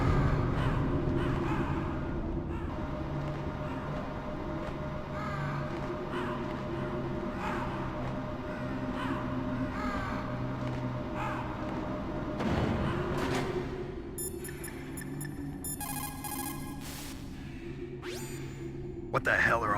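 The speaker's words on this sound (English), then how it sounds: "What the hell are all these crows doing around here?" Crows caw repeatedly in the Metal Gear Solid game, sharp calls recurring over a dense background of game ambience and voice, with a burst of electronic beeps near the end.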